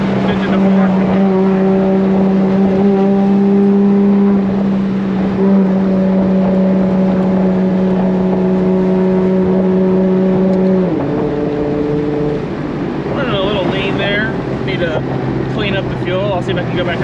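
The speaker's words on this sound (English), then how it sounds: "you see how it downshifts like that?" BMW E30 with a swapped 2JZ engine and 8HP70 automatic heard from inside, engine droning steadily then stepping up in pitch at each downshift, loud and close under light cabin noise.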